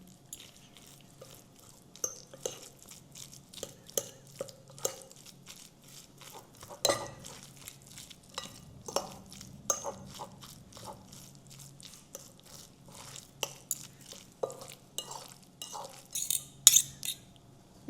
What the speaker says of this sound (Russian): И теперь вот так разминаем тщательно нашу рыбу.